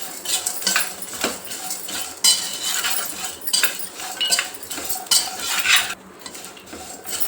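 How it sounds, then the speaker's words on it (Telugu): Garlic fries in a pan with constant stirring: a busy, continuous scraping and clinking of a utensil against the pan close by, with faint sizzle underneath. "ఎల్లిపాయలు కూడా ఒక రెండు నిమిషాలు మంచిగా వేయించుకున్నా"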